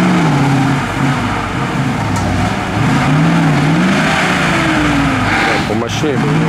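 A Soviet six-wheel-drive army truck labours off-road, its engine holding a strained, steady drone that dips and rises in pitch under load, loud and close throughout.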